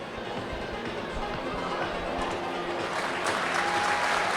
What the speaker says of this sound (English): A round of applause tells me that